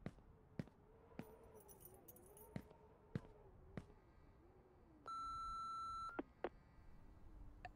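Single electronic voicemail beep from the horror game Remothered: Broken Porcelain, a steady tone lasting about a second, set among quiet game ambience with sharp intermittent clicks and knocks.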